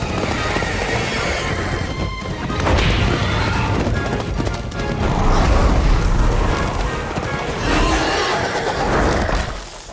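A cartoon horse neighs and whinnies loudly, with clip-clop hooves, thuds and crashes mixed into a busy animated scene.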